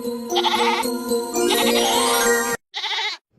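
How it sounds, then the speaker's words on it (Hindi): A goat bleats loudly and close by in long, wavering cries, followed by a short final bleat after a brief pause, with no voices. "अरे, यह तो बकरी के चिल्लाने की आवाज है"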